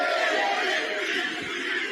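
A crowd at a karaoke event roars and shouts in a dense, sustained wash of cheering that holds loud and steady for two seconds.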